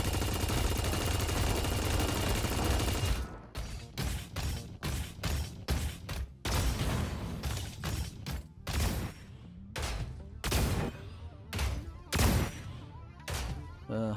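Rapid bursts of rocket fire from a mech in a battle royale game, a continuous barrage for a few seconds and then repeated short volleys with brief gaps, loud and close.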